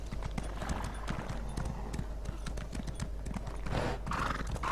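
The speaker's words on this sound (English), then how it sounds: "So there's quite a lot of white horses around here" White horses in The Elder Scrolls Online trot with steady clip-clop hoofbeats and neigh nearby, a whinny rising near the end over constant game ambience.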